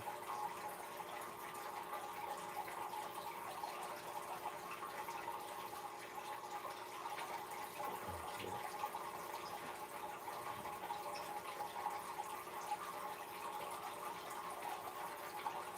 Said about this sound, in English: Except for the aquarium. It's a little bit low, so it sounds like a waterfall.